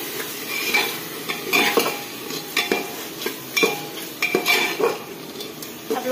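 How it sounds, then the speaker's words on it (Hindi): Mushroom curry is stirred in a pan with a metal utensil, making repeated scraping and clinking strokes at an irregular rhythm over a faint sizzle, close and fairly loud, with no voices. "अब हम लोग की सब्जी पक चुकी है, उसको हम लोग थोड़ा चला लेंगे।"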